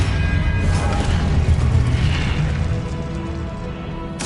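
Spell-casting effect of Expelliarmus in the Hogwarts Legacy game, a loud, sustained booming burst with mechanical rumble and crackle that carries through the whole moment without fading.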